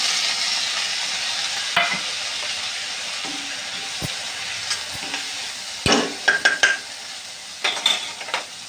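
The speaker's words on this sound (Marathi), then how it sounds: "आता आपण चण्याची डाळ टाकूया" Chana dal is added to onions frying in oil and stirred. A steady sizzle runs throughout, broken by several clinks and scrapes of a spoon against the pan.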